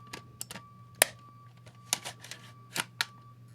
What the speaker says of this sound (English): this is me clicking in the CD.